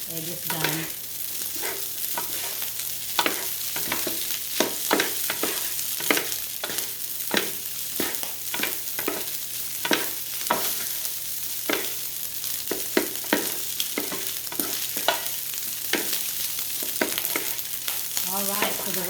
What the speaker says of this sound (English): go ahead and mix the egg in now